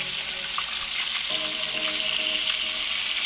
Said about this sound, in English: we're gonna go ahead and flip it